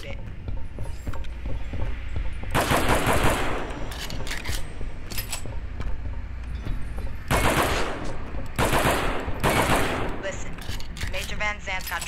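Bursts of automatic machine gun fire from a marine's weapon in the Alien vs Predator video game, several loud rapid volleys separated by quieter stretches with background game noise.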